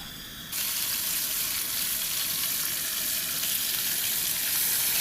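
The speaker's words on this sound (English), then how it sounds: "I told you it'd get sizzling after a little while here." Steady, loud sizzling of bacon frying in a pan, a dense crackling hiss that jumps up after a brief quieter start and continues without pause.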